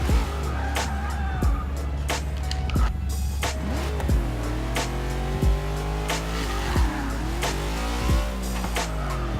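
A drag car in the Forza Motorsport 6 racing game launches with its engine revving hard and its tires briefly spinning and squealing, followed by repeated rising gear-change sweeps, loud and continuous throughout.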